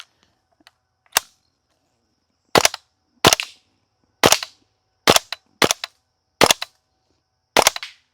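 WE L85 gas blowback airsoft rifle firing at outdoor targets: seven sharp, loud cracks with short pauses between them, plus one quieter shot near the start, and no voices.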